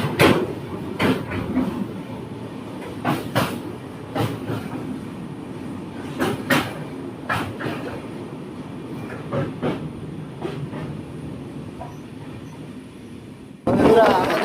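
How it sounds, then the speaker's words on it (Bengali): The Sikkim Mahananda Express runs through the Duars toward Hasimara station, its wheels knocking in steady clickety-clack beats over a continuous rolling rumble heard from inside the carriage, with a loud burst near the end. "বন্ধুরা আমাদের ট্রেন এখন ছুটে চলেছে হাসিমারা স্টেশনের দিকে"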